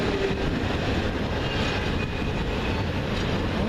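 A continuous loud rumbling roar of a passing CN freight train, broadband and steady, with faint rail clatter mixed in and no voices.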